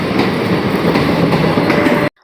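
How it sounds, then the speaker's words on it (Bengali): Railway wagons roll by close and loud with steady rumble and clattering wheel beats, then the sound cuts off abruptly near the end. "ট্রেন যাচ্ছে কি সুন্দর লাগে"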